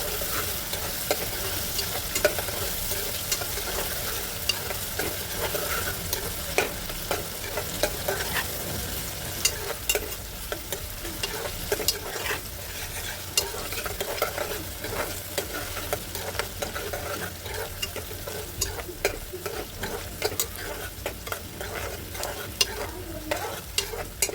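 Sliced onions fry in hot oil for chicken pulao, a steady close sizzle broken by frequent scraping clicks of a spoon stirring the pan, continuous with no talking.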